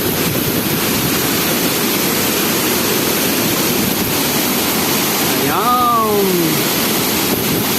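A waterfall in Tanudan, Kalinga roars in a steady, dense rush of falling water that fills the whole stretch, with a brief whistling call rising above it near the end.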